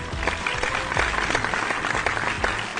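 Dense, steady clapping from a group fills the whole stretch at moderate loudness, with no voices over it.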